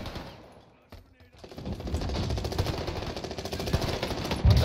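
Rapid machine-gun fire in Call of Duty Warzone starts after a quiet second and continues as a steady, moderately loud rattle of shots to the end.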